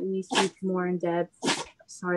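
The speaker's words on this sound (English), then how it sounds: "that's my dog sneezing. She has allergies." A dog with allergies sneezing twice in quick, sharp bursts close to the microphone, cutting between a person speaking during an online webinar.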